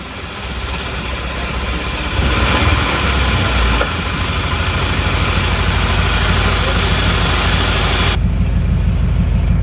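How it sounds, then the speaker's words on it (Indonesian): An Isuzu Panther diesel engine with a rough-sounding fan belt runs loud and close, its continuous churning drone rising slightly as it is revved. A steady whirring rattle runs throughout. "ini adalah suara ban kipas. Kita tinggikan dulu gasnya sedikit."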